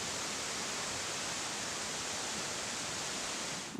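A waterfall along a hiking trail in Glacier National Park gives off a dense, steady roar of rushing water that stays constant throughout.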